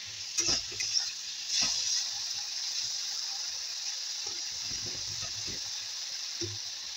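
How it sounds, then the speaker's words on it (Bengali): A steady hiss of prawns frying in a wok, with a few scraping knocks of stirring early on, then the sizzle carries on evenly at close range. "এবারে আমি ভালো করে একটু নেড়ে নেবো, একটু ভাজা ভাজা মতো করে নেবো।"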